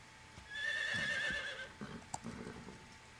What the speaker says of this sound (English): Of course, that horse is now a staple of the Metal Gear Solid series.